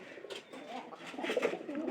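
Pigeons coo softly in a loft, low murmuring calls overlapping for a couple of seconds at moderate distance with faint background noise.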